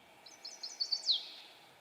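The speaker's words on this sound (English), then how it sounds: "Chestnut-sided warbler." Chestnut-sided warbler song: a short run of high, sweet chirped notes building to an emphatic down-slurred ending, heard clearly on its own against faint background hiss.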